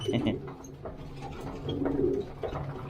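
Pigeons coo softly while feeding in a loft, low, throaty, rolling calls repeating a few times close by against a quiet background.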